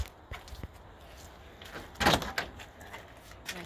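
The solid door of a 1955 Chevrolet Bel Air two-door hardtop is worked close by, with a few soft knocks and rattles, then a firmer thud and latch clunk near the middle, followed by lighter handling noises.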